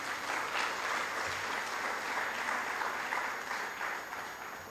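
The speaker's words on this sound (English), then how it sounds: "They deserve a round of applause." Sustained applause from an audience at a school speech day and prize-giving ceremony, a full, even wash of many hands clapping together, heard from a moderate distance with no gaps.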